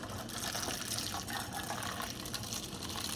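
A steady, rushing stream of boiling water pours continuously, a dense splashing hiss with no pauses and no talking.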